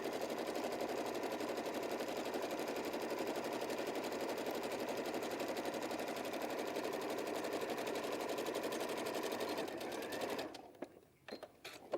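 A sewing machine stitches two pieces of 100% cotton fabric of matching weight, its rapid, even needle rhythm running close and continuous before stopping abruptly near the end.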